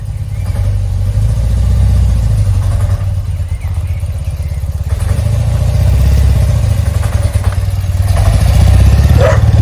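A BMW R80/7 motorcycle rides along in first gear, its loud, close engine drone steady and throbbing throughout, rising slightly as it pulls, with no talk.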